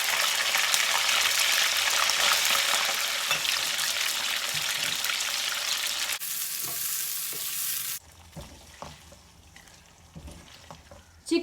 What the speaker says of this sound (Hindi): चिकन को इतना ही फ्राई करना है,